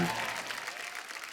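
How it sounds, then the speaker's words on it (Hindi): A studio audience at a comedy talk show applauds the cast of a television series, a short round of clapping that starts loud and quickly thins out and fades. "एक बार जोरदार तालियां रॉकेट बॉयज की स्टार कास्ट के लिए।"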